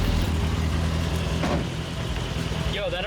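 A turbocharged Mazda Miata engine idles while warming up, a steady mid-pitched rumble close by, with brief clanks and a squeaky noise near the end.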